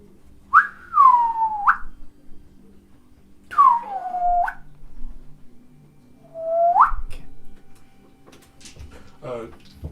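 A voice mimics an eerie creature's whistling as three separate, slow, rising-and-falling tones with pauses between, close and clear, then ends in faint murmurs.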